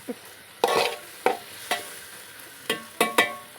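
Stirring and frying in a pan on the stove until browned, heard as several sharp scrapes and sizzling bursts spaced irregularly over a low background crackle, with no voices.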